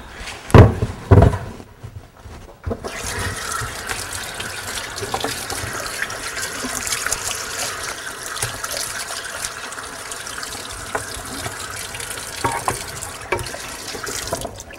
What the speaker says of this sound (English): I'll often rinse them off just to clean things up a little bit